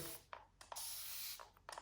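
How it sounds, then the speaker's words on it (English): Several short hissing bursts of a spray bottle misting water onto a vinyl decal and light board, quick pumps in a row with brief pauses between, close up and fairly quiet. "I'm just going to grab my spray bottle. I'm going to spray the light board"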